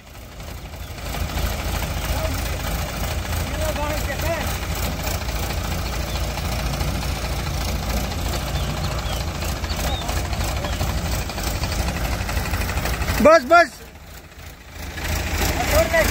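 A JCB backhoe engine runs steadily at a loud, rough idle while hauling a tractor free, with a brief louder surge near the end and a person shouting briefly over the drone.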